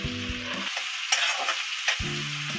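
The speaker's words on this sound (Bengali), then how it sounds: "পেঁয়াজ কুচিটা দিলাম যতক্ষণ না লাল হচ্ছে" Finely chopped onions fry in hot oil with a bright sizzle, while intermittent stirring strokes and scrapes of a spatula against the pan cut through the hiss.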